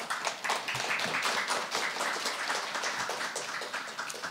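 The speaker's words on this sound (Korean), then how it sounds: "박수로 좀 격려해 주세요" An audience at a public hearing on Pop-up Theater gives a modest round of applause, a quiet, loose patter of clapping hands that stays fairly even before thinning out.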